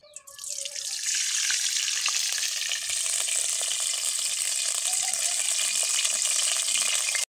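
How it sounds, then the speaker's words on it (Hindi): Oil heating in an iron kadai on a chulha hisses and crackles steadily, a loud continuous broadband sizzle that holds nearly unchanged for several seconds after a brief softer start. "बर्तमान हमर कढ़ाटा भल भाबे ताती गलानी एबे तेल एथरे दे दबा"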